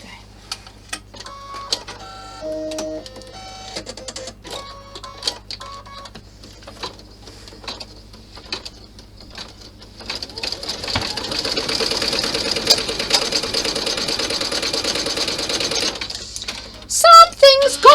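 Sewing machine stitching a cloth clutch bag, first in short stop-start bursts of needle clatter, then a long steady whirring run before halting with a few sharp clicks; a voice speaks over parts of it.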